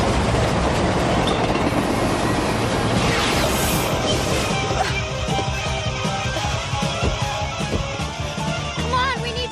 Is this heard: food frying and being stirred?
no